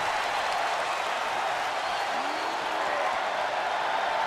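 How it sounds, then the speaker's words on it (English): Arena crowd in the WWE 2K22 wrestling video game applauding and cheering in a steady, loud wash of clapping that holds for several seconds with no letup. "this crowd is on their feet in full appreciation"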